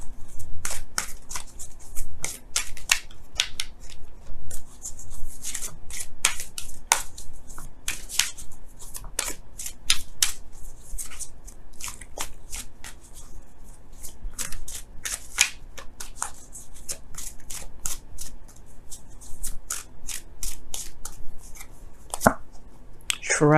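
Romance Angels tarot cards being shuffled by hand, a steady run of crisp riffling card snaps and flutters close up, with no talking.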